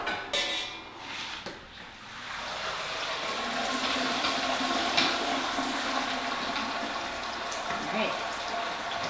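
Wort drains from a pulled grain strainer in a home brewing setup for a summer ale, a steady close rush and trickle of liquid pouring down that holds at a constant level after a brief clatter at the start.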